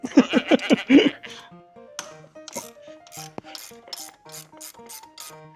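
A ratchet wrench with a 19 mm socket loosens the rear wheel nut of a Honda Hunter Cub motorcycle, giving a quick run of loud, rhythmic clicking bursts at close range, then scattered lighter metallic ticks and clinks.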